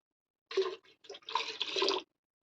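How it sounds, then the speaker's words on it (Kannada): Water is poured into a pot of cooked moong dal in a few short splashing bursts, close by, with silence before and after. "ಅದಕ್ಕೆ ಸ್ವಲ್ಪ ನೀರು ಹಾಕೊಳ್ಳ"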